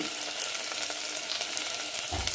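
Onion and tomato with turmeric sautéing in a pan for drumstick kurma, a dense, loud, continuous sizzle close up, with a brief stirring scrape near the end.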